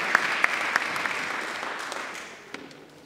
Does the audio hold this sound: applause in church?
yes